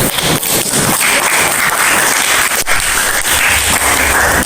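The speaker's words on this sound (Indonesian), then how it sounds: "Beri tepuk tangan" A roomful of people clapping loudly in a dense, continuous burst that holds steady for a few seconds.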